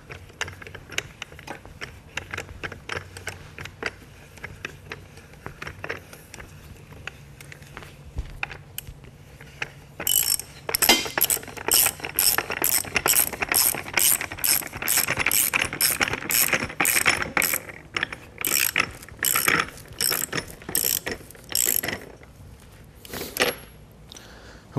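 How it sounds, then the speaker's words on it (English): A ratchet wrench tightening the bolts on a repair clamp fitted to a buried water pipe during a street repair, giving long runs of rapid metallic clicking, quieter and sparser at first and then loud and dense, with no talking. "and then basically just tighten the bolts down"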